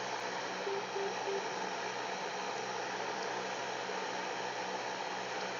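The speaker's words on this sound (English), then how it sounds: "that's the localizer's Morse code, and it's coming across" An ILS localizer Morse code identifier in a Cessna 172 comes through aircraft radio as a few short tone beeps near the start, buried in a steady loud hiss of static that continues throughout.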